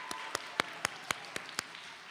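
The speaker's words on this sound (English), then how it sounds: "Round of applause for pre-K." Sparse clapping for pre-K children at a school chapel service, about eight separate claps at a steady rhythm over two seconds, faint and thin, more like one or two people than a full audience.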